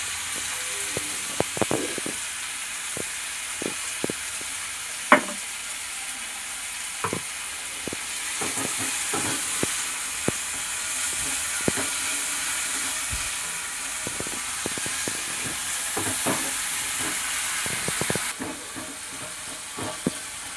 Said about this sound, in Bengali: ভাজা হচ্ছে, নুন দিয়েছি। এটা একটু ভাজা ভাজা হোক